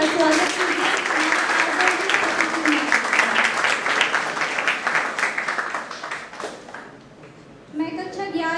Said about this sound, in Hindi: कृपया जोरदार तालियों के साथ स्वागत कीजिए।